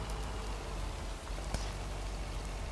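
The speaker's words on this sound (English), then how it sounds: "Listening to the rain drop on the road around us." Steady rain patters on a road in the video game Lake, a continuous close hiss of drops with one slightly sharper splash midway, no talking.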